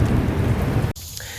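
Heavy rain pours outside with a low thunder rumble beneath it, a dense steady wash that cuts off abruptly near the end.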